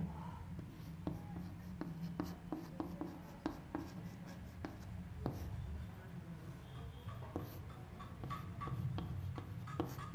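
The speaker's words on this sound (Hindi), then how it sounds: "यहाँ पर मैं लिखता हूँ फिर से उसी को" A pen writes by hand during a chemistry lesson on sigmatropic rearrangements, as carbons are numbered. It makes close, quiet scratches with sharp ticks and taps scattered at irregular intervals.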